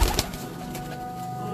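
A pigeon coos in a brief, low murmur with a faint flutter at the start, heard close over a steady background hum.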